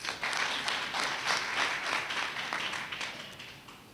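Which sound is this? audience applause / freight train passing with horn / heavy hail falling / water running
audience applause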